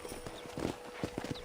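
Horse hooves clip-clop at a steady walking pace in the Western video game Red Dead Redemption on PC, with several close, distinct hoof strikes over a soft background.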